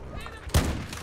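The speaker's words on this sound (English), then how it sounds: "That shotgun!" A shotgun blast in the video game Battlefield 4: one sharp, loud boom partway through with a short decaying tail, over a background of game noise.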